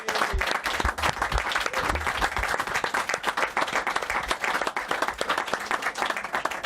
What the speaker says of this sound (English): a big round of applause for George and Neil